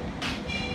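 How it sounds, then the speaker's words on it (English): Miniature train ride at a zoo, a steady rumbling roll with a bright hiss rising partway through, heard close and continuous over a brief moment. "Mama, can we ride the choo-choo train?"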